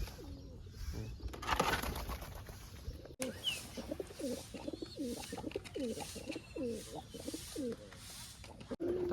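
Pigeons and their chicks cooing close by in a row of short, repeated throaty coos, with rustling and occasional wing movement around them.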